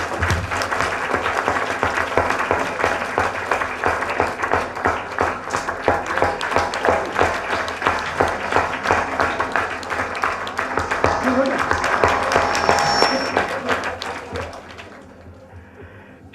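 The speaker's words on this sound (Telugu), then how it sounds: "కొంచెం చప్పట్లు గట్టిగా కొడదాం ఒకసారి" A large crowd at a music academy's anniversary celebration claps hard and steadily for about fourteen seconds, a dense rippling roar that fades out toward the end, with voices faintly underneath.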